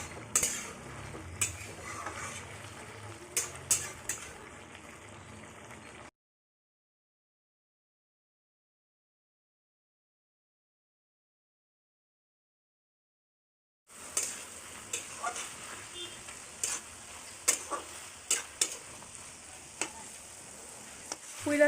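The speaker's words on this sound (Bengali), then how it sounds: "এটাকে ভালো করে নাড়াচাড়া করে দেব।" Malabar spinach stems and potatoes for chorchori are stirred in a sizzling pan, with spatula scrapes and clinks over a frying hiss, broken by a long stretch of silence midway.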